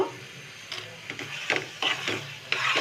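A spoon stirs olive pickle with dry chili powder in a pan, giving soft scraping and sizzling strokes in a slow, steady rhythm, close up and moderately loud.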